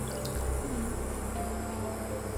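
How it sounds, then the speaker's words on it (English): Cold water pours into a pot over pork belly for a Sichuan twice-cooked pork dish, a steady close splashing and trickling stream that runs evenly throughout. "We add in the cold water to cover the"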